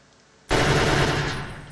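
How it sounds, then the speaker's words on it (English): An RPK Kalashnikov light machine gun in a video game lets off a loud sustained burst of automatic fire that starts abruptly and rolls on with a dense, fast clatter. "You will be able to buy the RPK, which is Ruchnoi Pulemyot Kalashnikov,"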